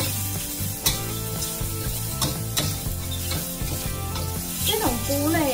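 Mushrooms and green peppers stir-frying in chicken fat give a steady close sizzle, with scraping stirs and clatter at intervals and a brief voice under the frying.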